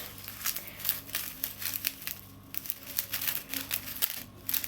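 Continuous crinkling and rustling of plastic packets, close up, with irregular bursts of crackle throughout and no talking.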